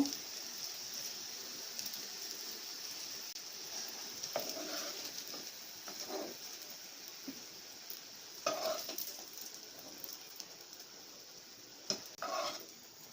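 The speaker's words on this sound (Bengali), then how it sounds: "এভাবে আমি বাকি সবগুলো ভেজে তুলে নিব" Korean soft egg rolls fry in a pan with a continuous soft sizzle, broken by occasional scraping and light utensil clinks against the pan.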